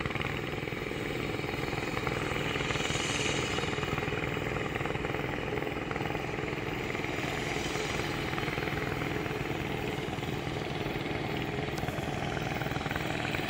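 Concrete smoothing machine working a surface at a toll road construction site, a loud continuous engine drone with a rapid rhythmic throb that runs unbroken, with no talking.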